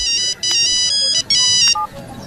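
A phone ringtone plays loudly and close in repeated bursts of bright electronic tones with short pauses between them.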